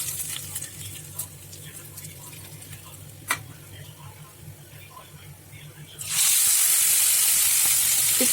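Rohu fish pieces fry in hot oil. A voice talks over light ticking and a faint sizzle, then a loud, dense, steady frying hiss suddenly takes over for the last couple of seconds, close to the pan.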